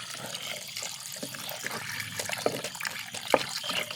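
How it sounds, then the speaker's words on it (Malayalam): Water is poured into a pan of fried spice powders for a masala, giving a steady splashing trickle with a few light clinks, close and alone. "ഇതിലേക്ക് വെള്ളം ഒഴിച്ച് കൊടുക്കുക."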